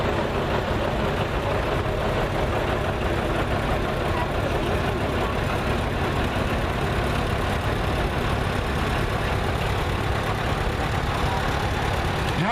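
A 1964 John Deere tractor idling in a parade, a continuous low engine rumble with steady outdoor noise and no clear change in pitch.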